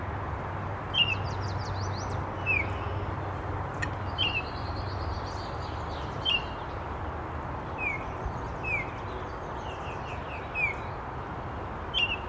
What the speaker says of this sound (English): What did you call the bird, Joe?